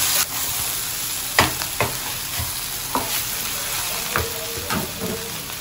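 Three boiled potato cubes tipped into a frying pan and stirred, giving a steady close sizzle with scattered scraping clicks from the spoon against the pan.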